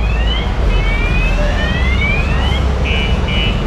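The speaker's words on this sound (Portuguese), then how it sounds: "O cara foi abrir o carro, disparou o alarme." A car alarm sounds at an outdoor antique car show, its rising, warbling electronic tones sweeping repeatedly over steady crowd and traffic noise, then switching to short pulsed beeps near the end.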